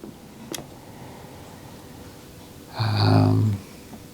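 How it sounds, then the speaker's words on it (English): A dog snores once in the background of a quiet indoor room, a short, low, rasping breath near the end, with a faint click earlier. "There's a dog snoring in the background."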